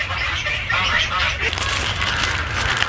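A flock of ducks keeps up a steady, busy racket outside a greenhouse, overlapping calls running continuously with a slight lift in the second half.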